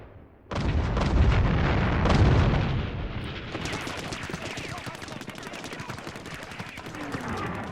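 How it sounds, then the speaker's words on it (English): German 88 flak guns in a World War II desert battle, heard as a dense, loud roar of booming gunfire and blasts. Rapid crackling shots and rumbling follow at a slightly lower level. "But the German 88 flak guns cause tremendous losses."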